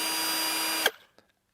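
Cheap cordless drill running with a steady, loud whirring gear whine that cuts off abruptly, followed by a brief tail and a small click, with no talking.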